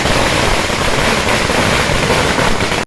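Firecrackers burst at a street victory celebration for Congress and DMK supporters in Alangulam, a loud, dense crackle of rapid bangs that runs nonstop before cutting off abruptly.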